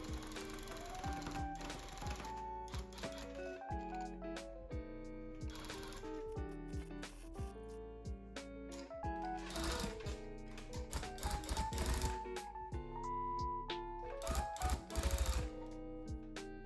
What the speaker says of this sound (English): I press the trigger button on the gun intermittently